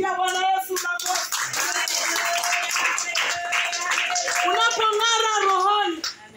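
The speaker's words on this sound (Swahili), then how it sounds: "Ya Bwana Yesu makofi." A church congregation claps along together, a dense steady patter of hands running nearly the whole time beneath a loud, strained preacher's voice and a higher voice that joins in.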